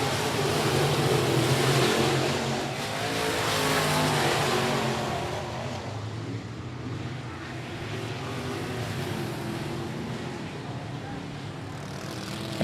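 Race cars roar past on the final lap at I-37 Speedway, a loud continuous engine drone that swells and fades slightly as cars pass, with an announcer talking over it.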